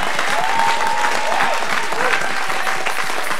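A church congregation at a Sunday service applauds God in a loud, sustained, dense wash of clapping that fills the room, with cheering voices mixed in.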